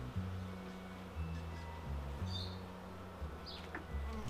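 Honey bees buzzing around an open beehive during an apiary inspection: a dense, continuous drone of many bees close by, with wavering pitch and a few louder passing buzzes.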